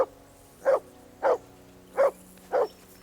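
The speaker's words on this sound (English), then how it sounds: "Call off that damn dog before he wolfs down the last of our mates." A dog barks four times in a video game set in medieval Bohemia, Kingdom Come: Deliverance II, with sharp, evenly spaced barks about half a second apart, fairly close and clear over a low, quiet background hum.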